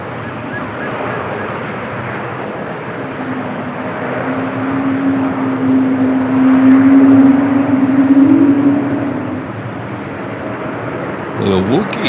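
Delta Airbus A220 jet rolling down runway 24 left at LAX for takeoff, a broad roaring rumble with a rising whine that swells to a peak midway and then eases, with wind noise throughout.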